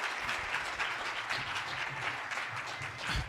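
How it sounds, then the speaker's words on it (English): Audience applause at a conference talk, a dense, steady wash of many hands clapping at moderate distance, continuous for a few seconds without speech. "Give him a round of applause."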